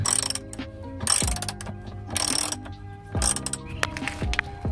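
A ratchet wrench loosening a subframe nut on a classic BMW E28 during a subframe bushing job, giving close rapid clicking strokes in several bursts with metallic ringing between them.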